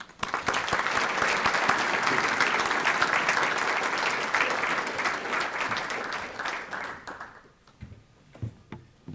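An audience welcoming a speaker onto the stage with sustained, dense applause for several seconds before it thins out to scattered claps.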